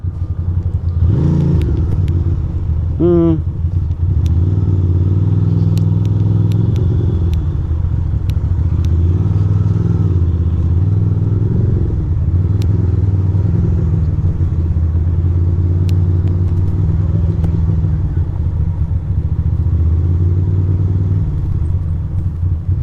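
Constant low engine rumble and road noise from a car circling the block, heard from inside the car, steady and fairly loud throughout with only small changes in engine pitch.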